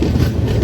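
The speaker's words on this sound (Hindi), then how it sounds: "सामने से भी कोई ट्रेन एंट्री ले रही है भुसावल जंक्शन की तरफ" A train pulls into Bhusawal Junction, a loud, close, steady rumble of wheels and cars over the rails in one short, continuous stretch.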